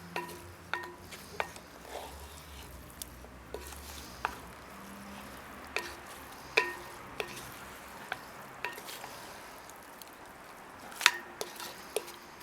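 Grated carrot is stirred into a beef curry in a cast-iron potjie pot, with a soft background sizzle and a series of scattered sharp scrapes and knocks as the spoon moves through the pot.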